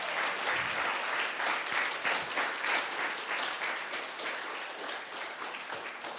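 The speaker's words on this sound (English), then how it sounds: "Can we get one last round of applause for Miss Wailea Tupou?" Sustained applause from an audience at a symposium, a dense steady wash of many hands clapping that holds evenly for several seconds with no talk over it.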